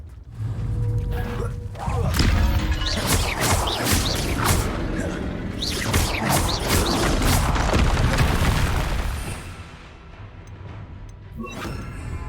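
A troll attacking in Hogwarts Legacy: heavy booms and smashing crashes with creaks and whooshes in a dense, loud mix, easing into quieter thuds toward the end.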